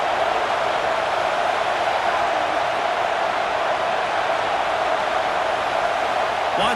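A stadium crowd in EA Sports College Football 26 roars continuously in a dense, steady wash of noise, loud and unbroken throughout, with no distinct voices standing out.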